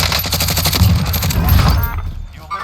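Rapid automatic gunfire in Call of Duty Warzone, a loud burst of repeated shots for about two seconds, then tapering off into quieter game ambience.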